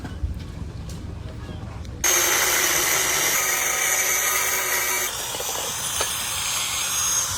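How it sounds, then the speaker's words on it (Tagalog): Angle grinder dismantling a scrap electric motor, starting abruptly after a quiet moment into a loud, steady high whine that drops slightly partway through, close up with no talking. "Baklasin natin gamit ang grinder."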